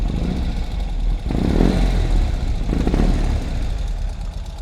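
A 2020 Ural Gear Up motorcycle exhaust burbles at idle and is revved twice, deep and loud up close, rising and falling with no talking.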